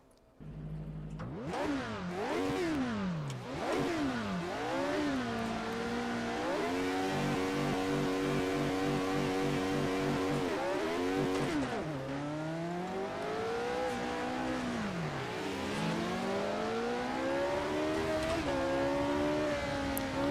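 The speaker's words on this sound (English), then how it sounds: "This car sounds damn good." A loud race car engine in the Assetto Corsa racing game, recreating the Monaco Historique, revs hard and shifts gears again and again, the pitch climbing and dropping in repeated sweeps.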